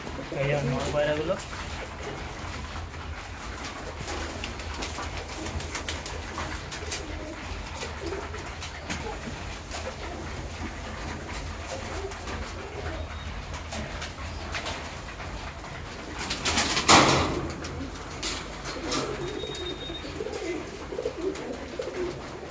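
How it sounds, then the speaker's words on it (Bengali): Young flying pigeons in a breeder's loft keep up a continuous low cooing, broken by a short loud flutter or clatter toward the end, with a faint ambient hum beneath. "এগুলো আমার এবারের বড়দের উড়ানোর বাচ্চা পায়রা।"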